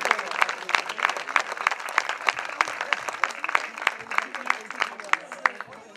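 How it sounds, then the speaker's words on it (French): An audience at a Breton rally stage applauds a world champion rally driver with steady, dense clapping, while an announcer speaks over the applause through a public address system. "Merci de l'applaudir encore plus fort, Joanne Lebeau."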